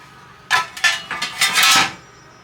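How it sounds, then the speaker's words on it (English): A metal brownie baking pan clatters and scrapes as it is lifted and handled, a quick run of bright clanks and rattles close by, with no voices. "pop that pan out and get underneath it"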